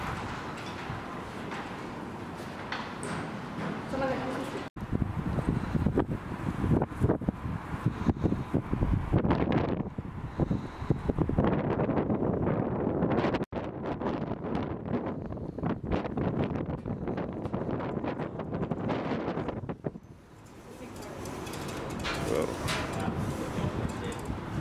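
Strong wind gusting around an abandoned mill in Yarraville, buffeting the microphone in rough, rising and falling bursts, with people talking intermittently.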